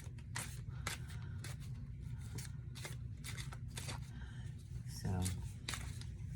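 A small tarot deck is riffled and shuffled close to the mic in a run of crisp, papery bursts, about a dozen quick rustles with short gaps between them, while a person talks quietly underneath.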